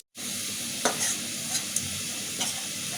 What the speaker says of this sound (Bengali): পেঁয়াজ আর রসুন কুচি দিয়ে দেব এটা আমি সুন্দর করে লাল লাল করে ভাজি করে নেব